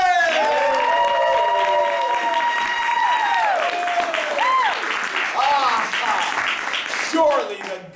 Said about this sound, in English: a raucous, almost unwarranted round of applause